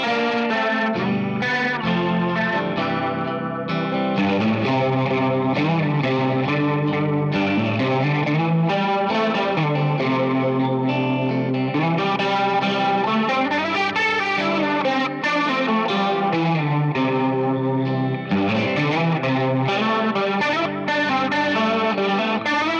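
An electric guitar plays the solo from a song through distortion and chorus effects, a continuous melodic line that runs steadily with no talking.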